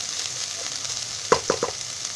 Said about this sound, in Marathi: चांगलं हलवून घ्यायचं मस्त भाजून.